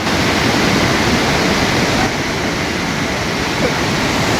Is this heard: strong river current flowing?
yes